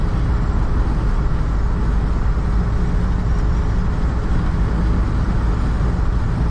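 A 1988 Dodge Ram B250 Safari van accelerating hard on the road: a loud, steady engine drone with broad road and wind roar, continuous and close throughout, no talking.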